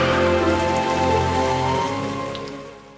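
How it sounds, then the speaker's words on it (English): Rain falling as a sound effect in a Roblox Brookhaven game, a loud steady wash of rain with a tonal hum underneath, gradually fading toward the end with no talk. "Watch out for the road, it's raining."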